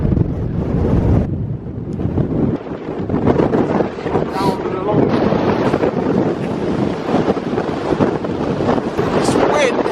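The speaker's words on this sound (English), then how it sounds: "This wind, ridiculous." Strong wind batters the microphone on the summit of Carnedd Llewelyn, a loud continuous roar with rushing gusts, and a person speaks over it in places.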